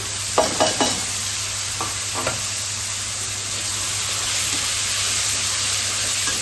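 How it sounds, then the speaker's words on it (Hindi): Chopped tomatoes tipped into a pan of frying onions for a sabji, a few soft wet thuds at the start, then a steady loud sizzle holding on throughout with a low hum beneath. "अब जो है ना इसमें ये मैंने बारीक बारीक टमाटर काट दिए, अब इन्हें मैं डाल देती हूँ।"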